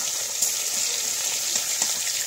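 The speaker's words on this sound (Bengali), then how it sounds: "আর অন্য যে মাছগুলো রাখা ছিল সেইগুলোকে আমরা ভেজে নিচ্ছি একই সঙ্গে।" Rohu fish pieces fry in oil in a pan over a village clay stove, a steady close hiss and crackle running throughout at an even level, with no talk.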